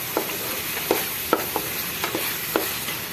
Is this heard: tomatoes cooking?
yes